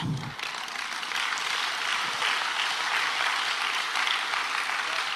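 Sustained audience clapping at a talk fills the room as a bright, even roar of many hands, continuous and fairly distant after a brief murmur at the very start.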